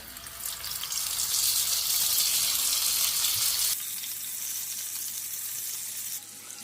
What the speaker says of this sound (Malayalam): ഇനി നമുക്ക് മീൻ വെച്ച് കൊടുക്കാം